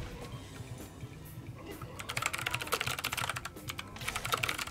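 Rapid clicks from a gaming keyboard during a typing game, a dense burst of close, crisp keystrokes that starts sparse and then speeds into quick, steady strings.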